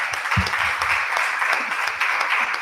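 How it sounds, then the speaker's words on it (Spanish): Audience at a science expo in Nicaragua applauding a student, a short burst of dense clapping heard fairly close and loud for just under three seconds. "Un aplauso para Reinaldo."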